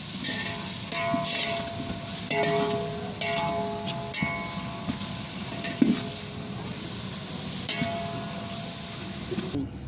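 Chana pulao spices being stirred in a frying pan, a steady sizzle with scraping stirs and faint clinks throughout, close and alone.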